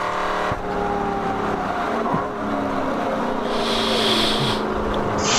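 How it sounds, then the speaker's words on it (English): A Celica race car at an endurance race meeting on Harris Hill Raceway rolls up pit lane: a steady, fairly loud engine drone with a continuous rumble, near and unbroken, with no talk over it. "That's the Celica being brought up pit lane"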